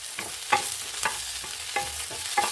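Onion and tamarind sautéing on a low flame for tokku, a soft sizzle broken by about five sharp spoon scrapes and taps against the pan at an uneven pace, close and alone.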